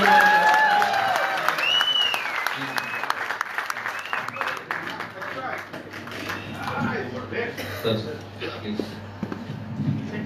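Audience at a birthday celebration breaks into applause for Abhishek, loud clapping at first that softens slightly midway, with voices and cheers mixed in throughout.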